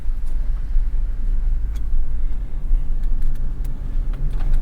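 A 2021 Toyota Tacoma on Hankook Dynapro AT2 Xtreme tires rolls along a road, giving a steady low rumble of tire and road noise with a few faint ticks and knocks from bumps.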